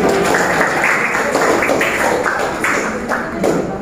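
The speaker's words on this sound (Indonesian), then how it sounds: "Kita beri tepuk tangan." Students in a school class applaud together in a steady, close burst of clapping that lasts a few seconds, with no one talking over it.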